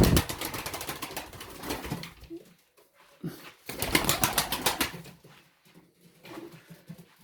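Wings flap in loud flurries among pigeons, with soft cooing and rustling in the quieter stretches, close by.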